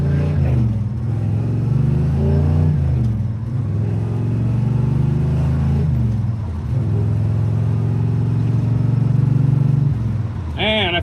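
A 1968 Chevelle with a 5-speed and 4.11 gears revs hard, its loud engine note rising and falling in several long pulls with short dips between, close to the microphone.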